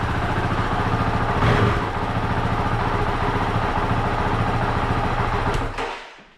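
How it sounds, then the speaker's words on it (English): A Honda CRF450RL motorcycle engine idles steadily and close by with a dense, constant rumble, slightly surging early on, before cutting out and dying away near the end. "it does a high idle, then it goes lower and lower, which is good"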